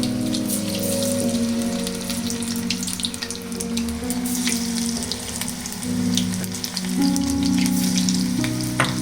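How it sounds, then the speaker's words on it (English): Baby corn pieces frying in hot oil in a pan, a steady loud crackling sizzle throughout with bubbling hiss and some tonal background hum, no talking. "So we need to fry a baby corn now."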